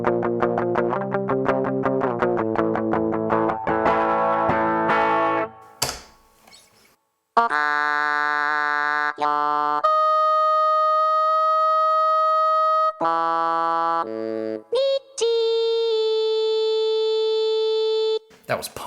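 An electric guitar plays power chords through a Korg Miku pedal, which turns them into synthetic, distorted vocal-like tones in choppy bursts and sustained held notes, loud and close with brief gaps.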